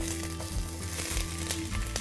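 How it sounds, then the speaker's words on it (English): Onion sizzles in hot coconut oil, a steady close crackling fry with soft stirring, no talking. "Now that the coconut oil is melted, I'm going to add the onion."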